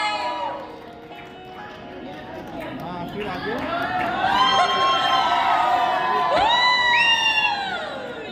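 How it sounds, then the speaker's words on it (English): An audience at a sangeet ceremony dance performance cheering, a lively crowd with loud shouts, whoops and chatter swelling over several seconds, close and busy. "give a huge round of applause after we watch it and cheer up"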